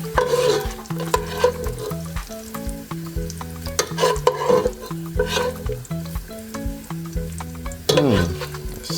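Browned bacon sizzling and frying in a pot while being stirred and scooped out, steady crackling with clinking of a utensil against the pot throughout.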